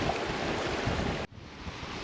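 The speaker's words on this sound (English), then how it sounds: "It's still really windy." Strong wind roars across an outdoor campsite by a chasm of waterfalls, a loud continuous rush that drops off suddenly midway and then resumes at a lower level.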